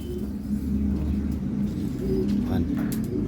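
Young racing pigeons cooing softly in a loft, low repeated coos running steadily under a person talking nearby, with a faint passing car.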